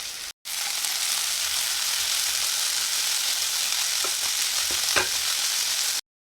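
Fenugreek leaves frying with half-cooked onion in a pan, a steady close sizzle throughout with a few brief stirring scrapes near the end.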